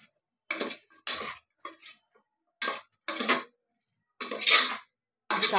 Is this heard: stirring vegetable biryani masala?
yes